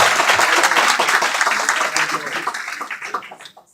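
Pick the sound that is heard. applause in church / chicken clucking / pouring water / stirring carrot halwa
applause in church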